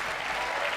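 Dense, steady applause from a large audience at the State of the Union address, filling the brief moment without a break.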